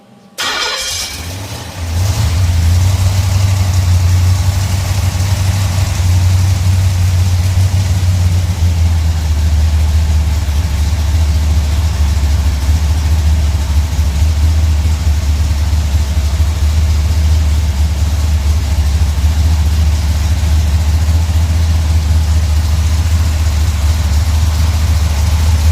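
Pontiac 421 Tripower V8, a roughly 450-horsepower pump-gas street build, fires up and then runs loud and steady with a deep, lumpy idle and occasional throttle blips, close by and with no talk over it.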